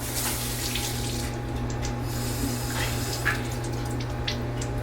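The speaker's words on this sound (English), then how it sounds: "So what I do is I wash my pads," Warm water runs steadily from a bathroom tap as facial pads are rinsed beneath it, a close, continuous splashing stream with no one talking.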